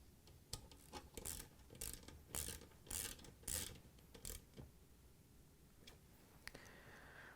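A socket wrench with a 5/16 socket ratchets in quick bursts, tightening a hose clamp on a GE washer pump connector; close, crisp repeated clicking with short pauses between strokes.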